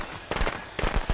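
Two quick bursts of crackling firecracker pops in a video game, sharp and loud, separated by a short pause.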